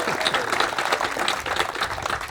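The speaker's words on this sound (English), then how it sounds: "This is our chance to clap for Jill." An audience applauds at a library grand opening ceremony, a steady patter of many hands clapping throughout, moderately loud and filling the room.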